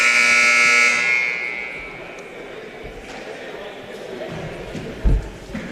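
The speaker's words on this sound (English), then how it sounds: "Buzzer sounds" A loud electronic buzzer blares for about a second in a gym during a girls high school basketball game in West Virginia, then fades into crowd murmur with occasional thumps.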